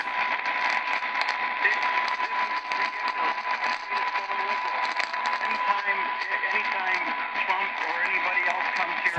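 A faint AM medium wave radio station comes through heavy static and hiss on a Kaito KA1103 receiver in the evening, a distant voice barely audible beneath constant crackling interference.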